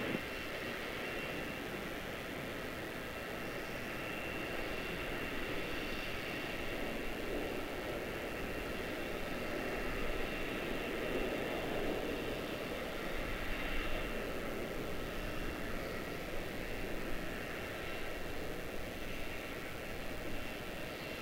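A jet airliner in from Cancun taxiing at Charlotte-Douglas International Airport, a steady broadband engine roar holding level for the whole stretch, moderately distant with no talk over it.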